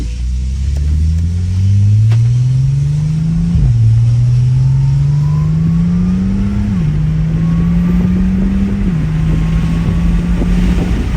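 A loud Audi S4 engine through a modified exhaust accelerates hard, its growl climbing in pitch through several gears, each upshift dropping the tone before it rises again, with wind noise underneath.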